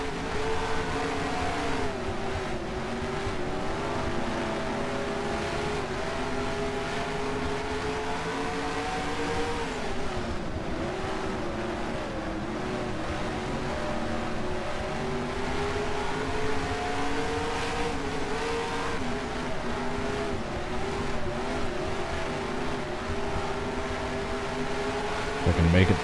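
Winged sprint car engines roar in the NR2003 racing game at Devil's Bowl Speedway, a loud, continuous, steady drone whose pitch dips and climbs through the turns for the whole stretch.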